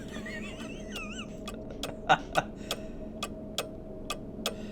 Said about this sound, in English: That ticking's got very loud.